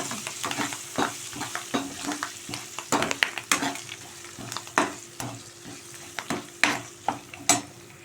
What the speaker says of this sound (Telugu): ఇప్పుడైతే పోపు దినుసులు వేగిపోయాయండి